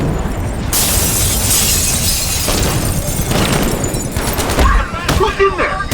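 Gunfire from the Batman: Arkham Knight video game: dense, loud bursts of shots and sharp cracks layered over a constant rumbling game soundscape for about six seconds, with a few heavier impacts near the end.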